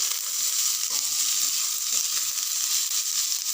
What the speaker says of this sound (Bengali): অল্প একটু আলুগুলো ভেজে নিতে হবে।